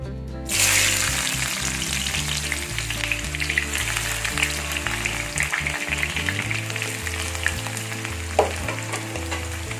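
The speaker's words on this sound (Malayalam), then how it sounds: "അപ്പോൾ ഇത് നമുക്ക് എണ്ണയിലിട്ട് നന്നായിട്ടൊന്ന് വറുത്തെടുക്കാം." Seven sliced onions fry in hot oil for chicken dum biryani, giving a loud, continuous close sizzle with occasional stirring scrapes and no voices.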